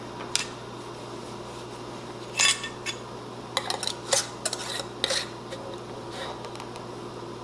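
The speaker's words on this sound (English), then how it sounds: "Now I'll put the lid on it." A metal lid goes onto a glass canning jar of caramel apple butter in a home kitchen, with a few light clinks and taps over a steady fan hum.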